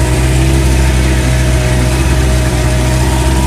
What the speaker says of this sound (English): I think I got this engine worked out.